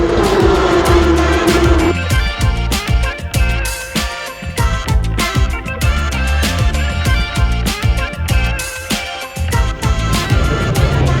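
Porsche race cars roar past at Sydney Motorsport Park, loud engine notes rising and falling as several cars pass in quick succession, with crowd and track ambience underneath.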